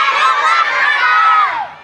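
A group of children shout a chant to Ghoga Mata together, a loud, sustained shrill crowd of voices lasting under two seconds before fading.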